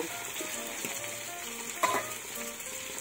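Vegetables fry in a pan with a steady close sizzle and light stirring, one brief sharper clink partway through; no speech.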